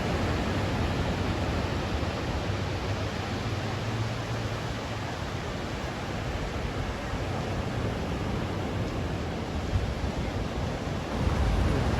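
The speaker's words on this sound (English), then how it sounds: "Looks like the waves are pretty good." Surf rolling onto a California beach on a warm day with surfers out, heard as a steady, broadband wash of breaking waves with some wind rumble, continuous and fairly near, swelling slightly at the end.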